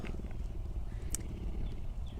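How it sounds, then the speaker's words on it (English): A rescued big cat purrs at a big cat sanctuary, a close, steady low rumbling purr that pulses continuously throughout, with faint background noise and no talking. "I'm just going to be quiet for a minute and let you listen to him purr."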